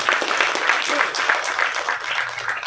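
Audience applause at a Tamil film event honoring a dance master, a dense steady clatter of clapping that runs the whole stretch, fairly loud and close.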